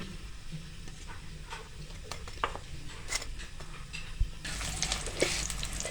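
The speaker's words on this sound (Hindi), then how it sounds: "एक साइड हमारी जो है फ्राई हो रही है" Radish paratha frying in ghee on a hot griddle, a steady close sizzle with scattered crackles and a few scraping, utensil-like knocks, growing brighter and louder near the end.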